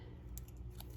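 Scissors trimming a thin strip of patterned paper for a handmade card, a few quick close snips spaced apart in a quiet room.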